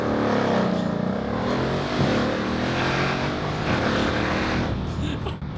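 Mercedes CLS 63 with launch control holding a loud, sustained engine rev, a deep droning roar whose pitch wavers and swells slightly before easing off at the end.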